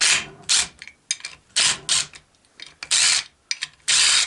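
A ratchet loosens 14mm bolts on a TRX450ER engine during a teardown. Bursts of quick pawl clicks repeat about eight times, each separated by short pauses, loud and close with no talking.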